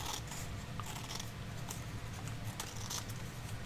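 Scissors cutting a paper bag down to size for a mini journal: a close run of crisp snipping and rustling paper sounds in uneven bursts, with no talk.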